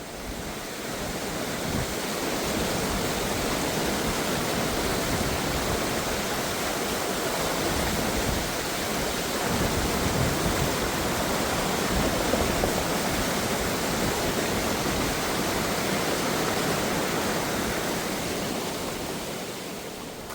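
Steady, dense rush of a narrow, fast-flowing mountain creek at a crossing, a continuous broadband roar that stays loud and unchanging throughout with no voices.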